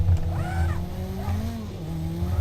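Renault race car in a racing video game, engine whining and shifting pitch with tire squeal as it slides, loud and close with no talk.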